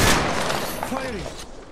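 Bursts of gunfire in a video game crackle loudly at the start, then fade quickly within a couple of seconds.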